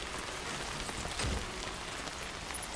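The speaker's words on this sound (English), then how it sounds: "This rain's not good." Steady rain in the video game Death Stranding, an even, constant hiss of falling water filling the background with no talk over it.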